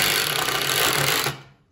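A power drill with a star bit drives a screw into wood for a barrel chair, giving a close, steady whirring grind that runs for over a second and then cuts off abruptly.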